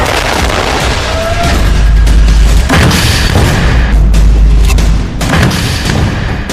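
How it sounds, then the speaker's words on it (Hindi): Anti-tank missile and rocket fire hitting Israeli tanks at close range, 100 to 150 metres; loud continuous rumbling booms and blasts with a sustained deep low roar, dense and chaotic throughout, no speech. "हिजबुल्लाह इजराइल के टैंकों को महज 100 से 150 मीटर की दूरी से एंटी टैंक मिसाइल से और रॉकेट से निशाना बना रहा है"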